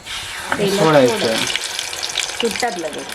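Medu vada frying in oil over a wood-fired stove: a steady bubbling hiss runs throughout, with voices talking over it now and then.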